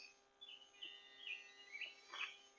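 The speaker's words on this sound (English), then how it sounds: "every bird in this forest is awake and alive and just singing with everything in them" Birds sing in a forest at dawn, a few faint high chirps and short whistled calls scattered over a quiet, distant background with no voices.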